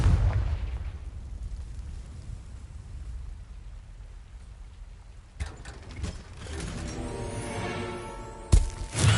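Spell blasts from the Bombarda and Confringo curses in the Hogwarts Legacy video game, a rumbling low boom at the start, then sharper bursts and crackling impacts near the end, loud with no talk.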